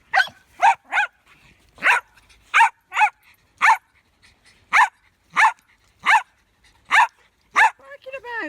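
A dog on an allotment lets out a steady series of sharp, loud barks, evenly spaced about every half second, close by, followed by a brief voice at the end.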